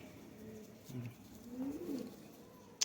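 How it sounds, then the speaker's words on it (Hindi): Soft coos of flying pigeons rise and fall a few times close by, with a faint click near the end and quiet surroundings. "स्मार्ट कबूतर हैं बिल्कुल, उड़ान वाले कबूतर"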